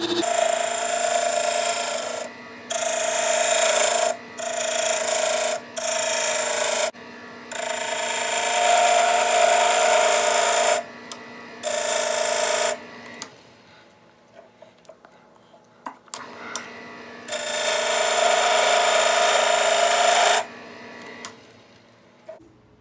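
A cutter shaves a wooden tool handle spinning on a lathe, the rasping cut coming in repeated bursts of a few seconds each, with a longer quiet stretch of faint motor hum before a final long pass.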